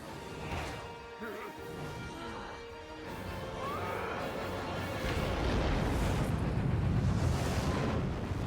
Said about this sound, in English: So you detonated a nuke in the air?